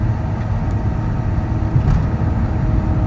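A steady whining howl from a 1968 Karmann Ghia Autostick's drivetrain rides over low road rumble and engine noise, continuous while driving, with no talking.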